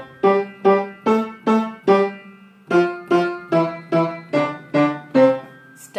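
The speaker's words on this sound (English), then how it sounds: "Instead of playing legato, which is smooth, I can do staccato, which would sound like this." Piano keys struck staccato, about a dozen short detached notes in a steady rhythm, each sharply attacked and quickly damped, close and clear with no talking.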